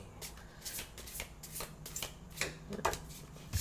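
Oracle cards are shuffled by hand in quick, crisp riffling bursts, close and moderately loud, with no talking.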